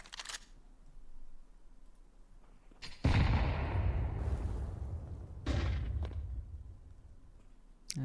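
A grenade goes off during a live Counter-Strike 2 match, a sudden loud near burst at about three seconds, its roar trailing off, then a second sharp blast-like impact a couple of seconds later amid quieter game ambience.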